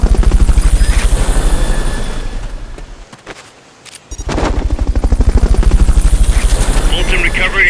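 Fulton recovery helicopter in Metal Gear Solid Peace Walker, loud pulsing rotor chop throughout, briefly dropping out near the middle before returning at full strength, with a voice speaking over it.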